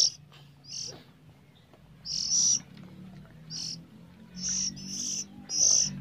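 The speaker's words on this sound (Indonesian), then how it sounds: "inilah ciri khas burung lolohan ketika lapar ya teman-teman. Jadi dia seakan menjerit-jerit" A hungry hand-fed baby bird gives repeated shrill, piercing screeches in short bursts, close by, over a low background hum.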